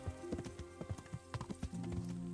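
Horse hooves clopping in the medieval game Kingdom Come: Deliverance, a steady run of close, distinct hoofbeats with a sustained musical drone underneath and no talking.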